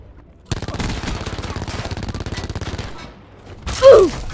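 Rapid automatic gunfire rattles in a sustained burst in Black Ops 4 multiplayer, close and loud, followed by a short pause and a sharper blast with a brief shout.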